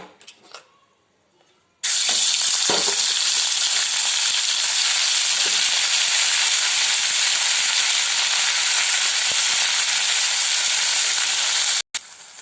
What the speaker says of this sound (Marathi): तेल गरम झालेलं आहे, त्यामध्ये टाकून घेऊया ही पिवरी.